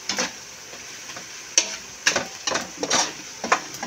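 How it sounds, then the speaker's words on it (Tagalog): Garlic frying in a pan for plain lugaw, with a steady close sizzle and crackle broken by sharp spatters and stirring bursts, no talking. "Kaya lang mag-fried garlic muna po tayo."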